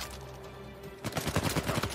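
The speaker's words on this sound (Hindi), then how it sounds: "गोलियां चला ही जा रहा है यार, वो तो इतनी गोलियां फेल दी उन्होंने हम पे" Enemies fire guns in the action game Uncharted 4. After a quiet second, a rapid burst of loud, repeated gunshots rattles out.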